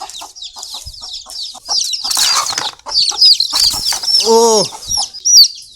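A hen wandering with her chicks, giving repeated close clucks and soft calls, with high peeping from the chicks, some wing flapping and a brief voice sound.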